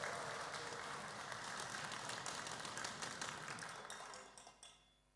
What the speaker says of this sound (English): we'll have to cheer them so that they can hear us